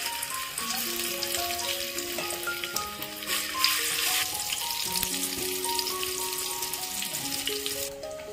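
Spice paste frying in oil in a pot for a spicy chicken rassa, a steady close sizzle with stirring and tonal clinks scattered throughout.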